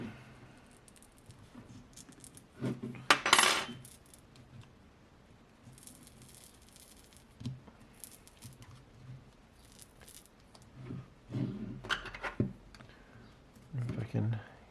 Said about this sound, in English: Looks like it's fairly well glued together. Good on you, Apple. But we need to peel this off.